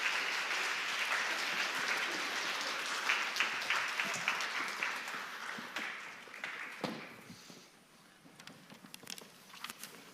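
Church congregation gives a big round of applause as Moses and Aaron come out during an intergenerational worship service, loud continuous clapping that gradually thins to scattered claps and fades.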